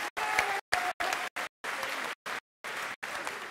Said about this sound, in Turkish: Bir alkışla Balkanlardaki dostlarımıza gönderelim.